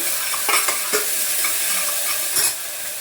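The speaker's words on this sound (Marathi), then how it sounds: "आता कांद्याबरोबर मी टमाटा पण टाकते लगेच परतायला" Onions sizzling steadily in hot oil in a home kitchen pan, with a few soft scrapes of a spoon stirring them through the continuous frying hiss.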